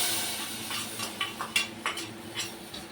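Hot tempering poured into cooked mango dal with greens sets off a brief sizzling hiss, with a few light metallic clinks and stirring scrapes of a spoon against the pot, close and moderately loud.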